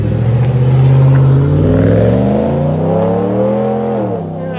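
A 2016 Ram 1500 pickup with a 5.7L HEMI V8 and B2 Fabrications exhaust with 5-inch tips revs loudly and close, its deep exhaust note rising and falling across the rev with no talk over it.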